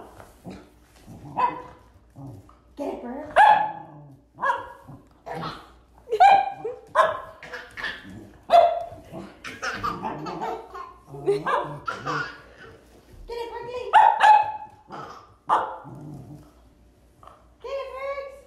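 A pet dog barks repeatedly in short, loud bursts close by, while a baby laughs and squeals between and over the barks and an adult voice talks now and then.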